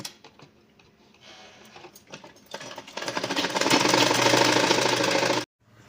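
A sewing machine stitches a traditional blouse seam, starting with a few short stop-start runs and then settling into a loud, steady, rapid mechanical whirr that ends abruptly, with no voices present.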